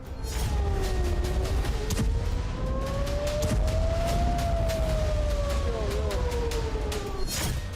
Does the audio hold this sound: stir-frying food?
no